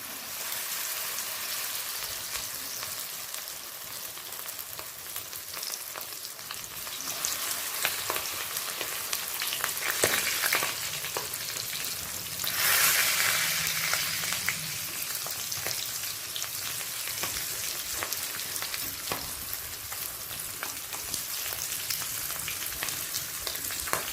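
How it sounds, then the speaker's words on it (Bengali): Marinated bhola fish frying in hot white oil over a medium flame, giving a steady, loud crackling sizzle that swells briefly as pieces go in, with no talking. "তেলটা গরমও হয়ে গেছে এরপর দিয়ে দেব ম্যারিনেট করা মাছগুলোকে"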